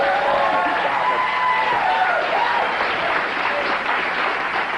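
A talk show studio audience applauds in a dense, continuous wash of clapping at steady loudness, and a voice talks over it.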